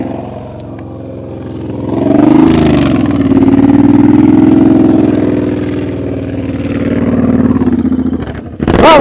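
A motorcycle engine during slow-speed riding practice, idling and then revving up into a sustained loud drone that rises and dips with throttle, close by, ending with a sharp burst.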